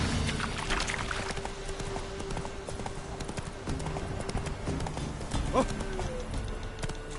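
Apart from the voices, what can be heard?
horse Roach galloping in video game The Witcher 3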